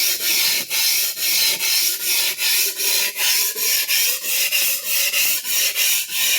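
A Clyde Cutlery chef knife blade is drawn repeatedly along a sharpening stone, giving about fourteen steady, evenly spaced rasping strokes, close and alone with no voices.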